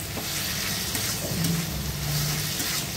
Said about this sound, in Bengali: টমেটো, গুঁড়ো মশলা আর চিংড়ি মাছ দিয়ে আরও 5 মিনিটের মতন ভেজে নেব।